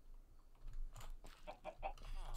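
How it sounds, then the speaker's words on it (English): Minecraft chicken clucking in a survival game, a few soft, quick clucks over a low background hum. "But I'm trying to get this last chicken"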